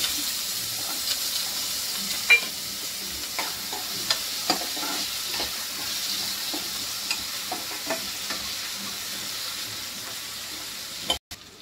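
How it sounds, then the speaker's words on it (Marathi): Finely chopped raw potatoes tossed into a pan with curry leaves for a fasting dish. A steady sizzle of frying runs under a series of light stirring knocks and scrapes. "आणि बटाटे कापून घेतलेत मी बारीक, ते टाकून घे. कच्चे बटाटे"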